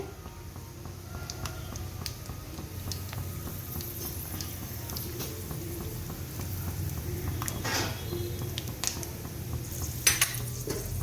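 Peanuts, chana dal and urad dal frying in a pan, with a steady low sizzle, occasional stirring scrapes and light clinks of a utensil against the pan throughout, no voices.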